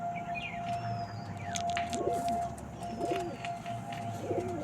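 Pigeons in a loft at Birshibpur, Howrah, give low, throaty coos about once a second, close and fairly soft, with faint chirps and rustling behind them.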